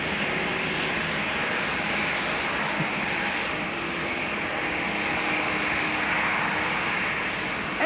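A Coast Guard Dash 8-100 turboprop drones at an airport in Amsterdam, its engines giving a steady, broad roar that stays constant and moderately loud at a middling distance throughout.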